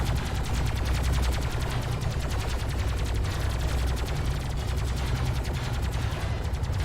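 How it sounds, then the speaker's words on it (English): A base runner in a real-time strategy video game takes fire from strike craft, a continuous rapid rattle of automatic gunfire holding steady and loud over a low engine rumble. "I love that noise of the base runner getting shot at by strike craft"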